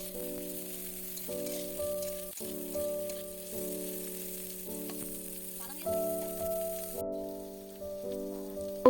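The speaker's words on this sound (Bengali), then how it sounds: "দিয়ে আবারও আমি 3 মিনিট মতো ভেজে নেব সবজিগুলো।" Carrots, capsicum and beans sizzle in a pan for egg chow mein with a soft, continuous crackle, while steady tonal music plays over the frying throughout.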